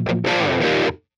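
Basic guitar intro tone from a Line 6 Helix, a short bright distorted chord rung out for about a second and then cut, played alone.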